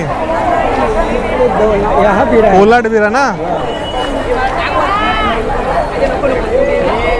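A busy bus stand during a rainy-season trip, with a dense crowd murmur and people moving around. A close voice talks loudly over the babble, and the pitch rises and falls sharply in the middle.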